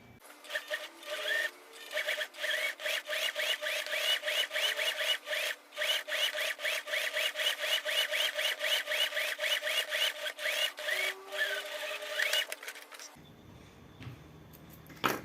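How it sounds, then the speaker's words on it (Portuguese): A sewing machine runs a fast, steady stitching chatter while topstitching along a fabric piece for a bate-mão with a built-in ring. It runs nearly nonstop for about thirteen seconds, then stops abruptly. "Agora vamos passar a costurinha aqui em cima de pesponto e uma costurinha aqui também."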